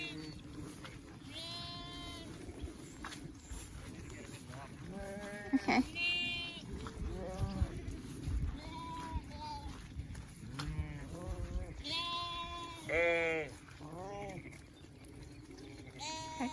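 A flock of sheep, ewes with lambs, bleat repeatedly while being herded across flooded pasture, many overlapping calls near and far, with people talking in between.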